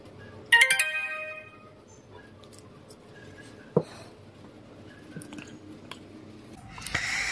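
A Jio Phone Prima 4G plays a short startup tune as it powers on, a bright chime near the start. Faint handling clicks and a sharp tap follow in an otherwise quiet room.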